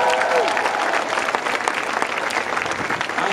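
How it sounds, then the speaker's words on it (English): A crowd at a Gainesville, Florida early-vote rally claps and cheers for Bill, dense continuous applause with a brief whistle near the start, loud and close throughout. "So give Bill another big round of applause."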